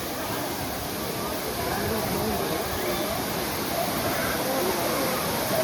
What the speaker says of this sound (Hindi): और ये था टाइगर वाटरफॉल, बहुत ही ठंडा पानी था इसका